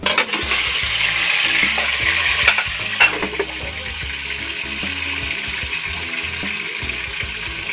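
Roast beef fries in hot oil, a steady loud sizzle with crackling pops and a few sharper spatters rising out of the continuous hiss.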